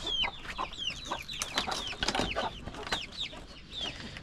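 Chickens cluck steadily and close by while being fed grain, a busy overlapping chorus of short calls that rise and fall through a few seconds, with no one talking.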